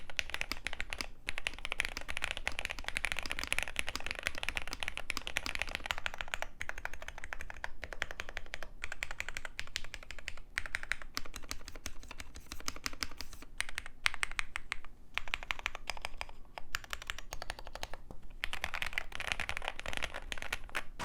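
Steady, fairly quiet typing on a mechanical keyboard with an aluminum case and layered foam, a continuous run of soft muted key clacks with no talking.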